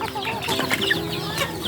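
Chickens and young chicks in a brooder cluck and peep steadily while being fed, a busy close flock chatter with no talk.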